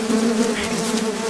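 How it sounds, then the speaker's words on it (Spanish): Flies buzzing close by, a steady insistent droning hum that wavers slightly in pitch over a second or so. "Estas moscas."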